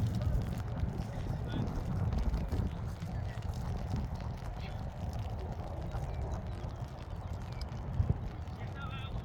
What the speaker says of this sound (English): it's getting windy and hard to hold the umbrella